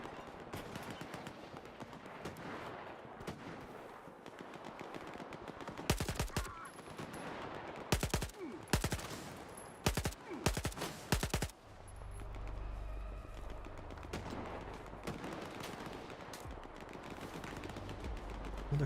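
Gunfire in the shooter Stalker 2, with sharp loud bursts and single shots cracking through a rumbling ambient background, clustered in the middle of the stretch and then giving way to steady low noise.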